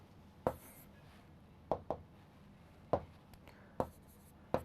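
Pen strokes on paper come as a few sharp, faint scratches spaced about a second apart in a quiet room, with no talk.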